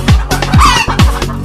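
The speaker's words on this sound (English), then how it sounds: "H for hen" Hen clucking in a children's phonics alphabet song, loud and close, with a quick run of about four rhythmic clucks alone, no voices.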